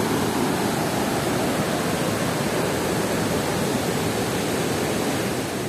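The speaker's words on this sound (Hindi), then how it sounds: "यहाँ से आप वाटरफॉल के खूबसूरत नज़ारे कर सकते हैं" Kundal Shahi waterfall in Neelum Valley, Azad Kashmir, pours with a steady, full-bodied roar of rushing water, constant and unbroken, heard close with no voices.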